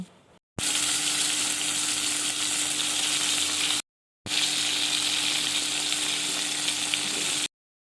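Eggplant pieces fry in hot oil in a wok with black cumin seeds and dried red chilies, giving a steady close sizzle in two long stretches separated by a brief silence.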